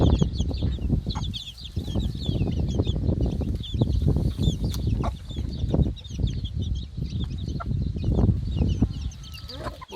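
Young chicks, crossbred Sultan chicks and Indian chicks, cheep in rapid, high chirps as they gather at the water in their coop, with soft, low rustling and thumps beneath the busy chorus.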